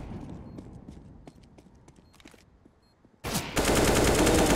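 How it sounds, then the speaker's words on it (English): Rapid gunfire in Counter-Strike during an IEM Winter 2021 Europe match between Eternal Fire and Sinners, a run of sharp shots that ends in a sudden loud burst of dense noise. "Woxic whiffing that shot as Oscar nails him through the side of the wall there"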